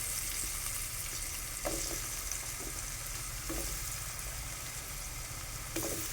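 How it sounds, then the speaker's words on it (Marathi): Cut potatoes frying in a pan for a capsicum vegetable dish, giving a loud, steady close-up sizzle throughout, with a few soft stirring knocks now and then and no talking. "आता याच्यामध्ये बटाटे कापलेले आहेत ते टाकतो"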